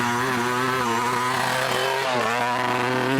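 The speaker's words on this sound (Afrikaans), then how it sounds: "Dit klink nie lekker op die fietsie nie" An off-road racing motorcycle engine at a bikes-and-quads desert race runs rough and uneven, its buzzing drone steady and loud throughout with a slight dip and recovery in pitch, no talk over it.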